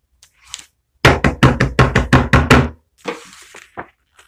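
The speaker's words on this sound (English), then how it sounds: "Suddenly there was a loud banging at the door." Loud banging knocks on a door at night, about eight heavy blows in a fast steady burst, close and alone, with brief quieter shuffles before and after.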